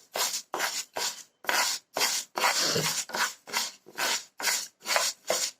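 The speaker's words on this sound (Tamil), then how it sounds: "இந்த பாயாசம் செய்கிறதுக்கு 1 டம்ளர் பாசிப்பருப்பு ஒரு பேனில் போட்டு ஸ்டவ்வை மீடியம் ஃப்ளேமில் வச்சு பொன்னிறமாக வறுத்துக்கலாம்." Moong dal dry-roasting in a pan is stirred in regular rasping scrapes, about a dozen evenly spaced strokes, close and fairly loud, with no talking.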